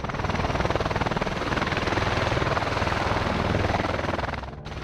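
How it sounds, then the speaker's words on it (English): A USAF Osprey tiltrotor lifts off from a hospital helipad, its rotors giving a loud, steady, throbbing roar that stays close and continuous throughout. "Addenbrooke's Hospital helipad destroyed by USAF Osprey departure by accident on April"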